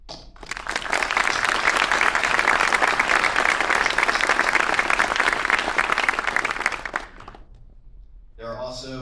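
Sustained, loud applause from a graduation ceremony audience fills most of the span, then breaks off abruptly near the end, leaving a brief quieter tail where a voice begins speaking.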